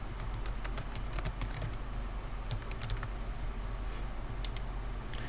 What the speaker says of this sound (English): I'm going to type in Fields of Science